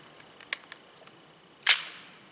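A CZ Scorpion submachine gun loaded, with a light metallic click of the magazine seating, then a louder, sharper clack a second later as the bolt slams forward, trailing off into quiet.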